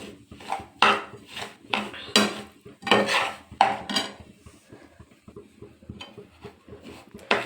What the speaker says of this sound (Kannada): ಒಂದು 4-5 ನಿಮಿಷ ಚೆನ್ನಾಗಿ ರವೆ ಹುರಿಬೇಕು